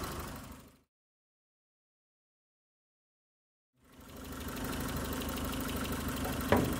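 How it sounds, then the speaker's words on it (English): A 1990 Ford Probe GT Turbo idling with its fuel injectors clicking, the engine cutting out into silence partway through, then a steady idle hum returning, close and moderately quiet. "The old clickety-clack, I believe it's the fuel injectors, just pretty loud fuel injectors."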